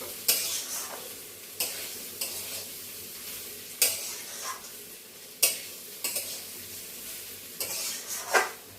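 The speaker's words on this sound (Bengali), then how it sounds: "ভাজাটা যত ভালো হবে তত পোলাওটা ঝরঝরে হবে সেই জন্য একটু ভালো করে এটাকে ভেজে নেব" Soft frying sizzle in a pan as ingredients for pulao are fried, broken by repeated scraping stirs of a spatula every second or so, with light metallic clinks.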